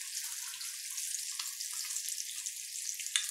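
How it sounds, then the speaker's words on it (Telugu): Eggs frying in oil in a pan at home, a steady high crackling sizzle with a few sharper pops, moderately close and without talk. "కోడిగుడ్లని వేపేటప్పుడు కొంచెం జాగ్రత్తగా చూసుకొని వేపండి."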